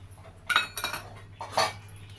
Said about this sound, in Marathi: हे बघा दोन चमचे मोहरी टाकून घेते